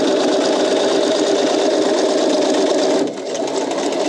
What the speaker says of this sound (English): So I'm stitching right on that line that I marked.